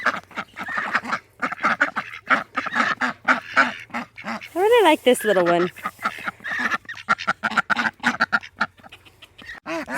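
Hungry ducks quack and honk in a noisy cluster of calls, heard close by beneath and between a person's talking.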